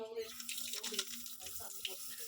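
Ginger is washed under running tap water, producing a steady, soft splashing hiss with small irregular bursts. A faint voice is heard near the start.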